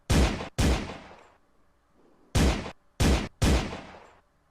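Gunfire in the VR game VRChat: five loud, sharp shots in uneven bursts, two close together, then a quiet gap, then three more, each with a short ringing decay.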